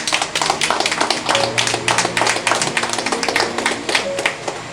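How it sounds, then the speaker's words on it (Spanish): A church congregation claps at the close of a sermon, a dense run of many hands at steady loudness for the whole stretch, with faint tones and murmuring beneath. "Ustedes aplauden porque terminé."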